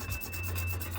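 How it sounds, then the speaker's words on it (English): Sandpaper rubs over a Hellcat widebody car panel in quick repeated strokes, a close, soft raspy scratching. "get your sandpaper and just kind of go over it"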